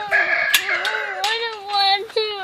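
Chickens on a family farm cluck and call in a close, continuous stretch of bird sounds, with a voice mixed in.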